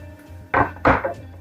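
Onions are tipped into a pan of hot coconut oil, heard as two quick, close clattering bursts over a faint background hum.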